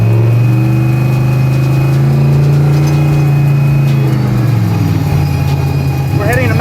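A 427 LSX big-turbo street truck rumbles loudly from inside the cab, a deep steady engine drone that shifts pitch partway through as the revs change, filling the space at close range.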